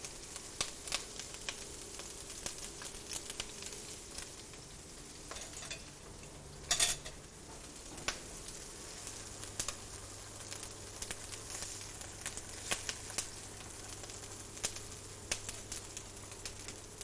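Calamari sizzles in a small pan in a restaurant kitchen, a steady close hiss with scattered clinks of utensils and one sharp scrape partway through, no voices.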